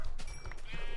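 A Minecraft sheep gives one brief bleat, fairly close and clear, with a low in-game background underneath.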